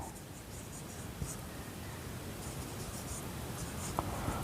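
Pen or marker writing the total profit during a Class 9 maths lesson on profit and loss, a steady faint scratching with soft taps, close and alone.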